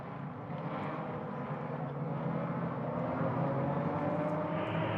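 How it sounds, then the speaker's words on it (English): Sixteen race cars at the start of a 2015 race at Virginia International Raceway, a steady rumbling roar of many engines held at constant loudness throughout, slightly distant, with no talk. "Hear that thunder as those 16 cars head towards the start-finish line."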